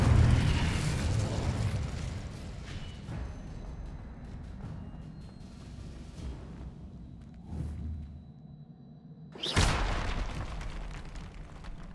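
A fiery Incendio spell burst in Hogwarts Legacy during a trial fight, with a heavy booming blast near the start, scattered pops and thuds, and another sharp explosive burst late on, no talking.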